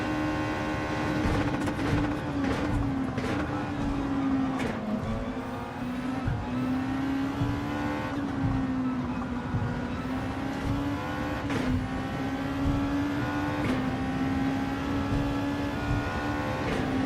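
Race cars including a Honda NSX roar down the straights in a Gran Turismo 7 GR.2 championship race, a loud sustained engine drone with shifting pitch and occasional gear-change surges throughout, no talking.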